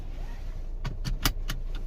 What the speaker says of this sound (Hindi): ये बेल्ट लगाना है